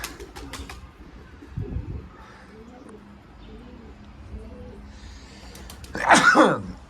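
Ankara tumbler pigeons return to a loft, with soft cooing and fluttering at low level and a sudden burst of wing flaps near the end, while someone speaks and coughs nearby.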